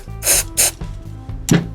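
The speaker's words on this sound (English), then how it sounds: "I'll spray this out real good" Cleaner sprayed into the electronics and pickup cavity of a Yamaha MG-M electric guitar, heard as three short, loud hissing bursts spaced apart over a low steady hum.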